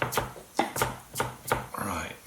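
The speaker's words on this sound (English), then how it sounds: "a nice big chunk of raw ginger, which I'm just going to cut up a bit more" A knife chops through a big chunk of raw ginger on a board, with about five crisp, evenly spaced cuts close up, followed by a brief scraping sound.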